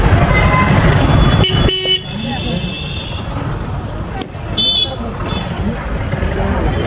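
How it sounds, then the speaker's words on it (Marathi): A traffic jam on a crowded road near Goa, with several car horns honking, short toots followed by a longer blast and another honk, over a steady rumble of engines while people talk. "ट्रॅफिक जाम झालेलं आहे"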